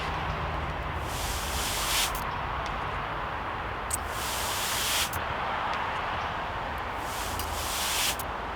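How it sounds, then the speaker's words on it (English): A trigger spray bottle sprays water in repeated bursts, soft close hissing pulses spaced a second or two apart with quiet gaps between, no voices. "the whole time I'm pulling back, it's spraying."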